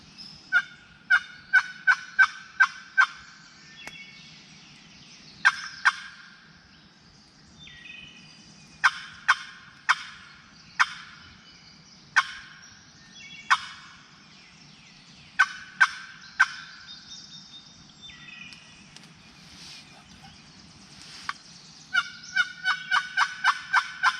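Wild turkey gobbling repeatedly in the distance during a turkey hunt, several rapid rattling bursts separated by pauses, with a final closer run of gobbles over a quiet low outdoor hum.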